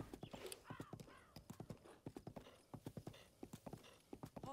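Horse hooves clip-clopping in Zelda: Breath of the Wild, a quick steady run of close, crisp hoof strikes at a trotting rhythm, with a brief snort near the start.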